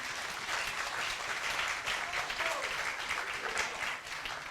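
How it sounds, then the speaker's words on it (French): A crowd applauds a musical work at an official launch ceremony, a dense, even wash of clapping that holds steady throughout with a faint murmur underneath. "Applaudissez très fort cette œuvre"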